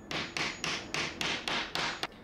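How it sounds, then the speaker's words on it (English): Hammer blows tapping wooden ribs into place on a CNC belt sharpener build, eight evenly spaced sharp knocks about a third of a second apart, close and clear with no talking. "a little bit of love from a hammer to get them in."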